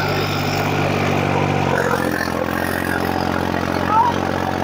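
A Solis 5515 tractor runs in second gear at 2000 rpm during a pulling demonstration, a steady droning engine tone held close and constant, with a voice speaking over it.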